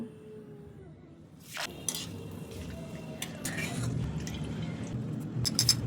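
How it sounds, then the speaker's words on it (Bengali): Curry leaves drop into hot oil left from frying peanuts for homemade jhuri chanachur, giving sudden crackling sizzle bursts over a low background, with metal utensils scraping and clinking against the pan. "তেল থেকে বাদামগুলো তুলে নিয়ে ক্যারি পাতাগুলো ওই তেলে ভেজে নেব"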